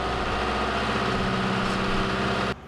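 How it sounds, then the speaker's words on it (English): Diesel engine of a hydraulic power unit running steadily at about 2,000 RPM, a loud close droning rumble that holds constant and then cuts off abruptly near the end, no voices. "To start the hydraulic power unit, hold down the glow plug and press the engine start button"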